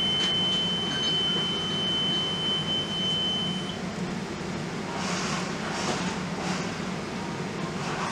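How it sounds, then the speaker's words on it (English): A marine oil mist detector alarm, set off by smoke testing gas on a reconditioned detector head, sounds as a steady high electronic tone for a few seconds over constant loud machinery-room hum, then cuts out while the hum continues. "Apart from hearing the alarm"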